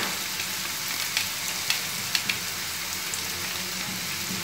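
Vegetables for a veg biryani sizzle steadily in a pan with a couple of spoons of chicken curry masala. The frying hiss is continuous and fairly close, with a few light stirring taps, and no voices.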